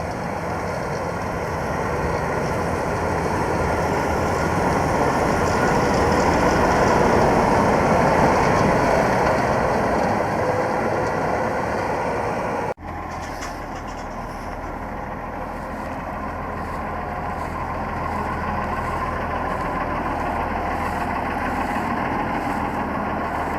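Claas combine harvester engine running steadily while driving between wheat fields, a loud continuous broadband drone with a sharp drop in level midway, then a lower, steadier hum for the rest.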